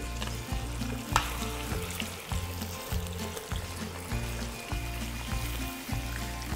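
Chicken pieces sizzle steadily in hot sesame oil as red wine goes in for Foochow red wine chicken, a continuous frying hiss running under a repeating low musical beat.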